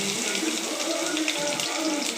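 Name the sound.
urad dal spluttering in hot oil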